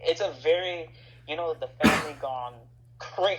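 A single sharp cough bursts out midway through a conversation, loud and close, with people talking before and after it.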